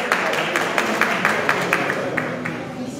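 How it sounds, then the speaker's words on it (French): An audience applauds minister Abdoulaye Diop at the Salon des Médias 2023, a steady wash of clapping from a crowd in a hall, with some rhythmic claps standing out and a faint voice underneath. "je vous demande également de l'applaudir"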